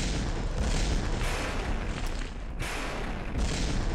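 An explosion effect from the Detonator Explosion Framework in the Unity 5 game engine: a continuous roaring blast fills the whole stretch, loud and dense, with a brief dip midway before the rumbling explosion noise surges again.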